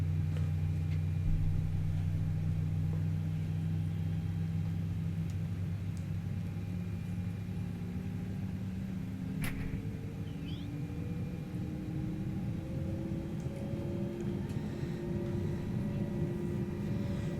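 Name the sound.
Airbus A320neo engine start-up in a flight simulator video game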